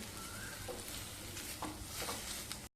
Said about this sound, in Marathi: ओबडधोबड करून घेतलेली कैरी घालूया मसाल्यामध्ये चांगली परतवून घेऊया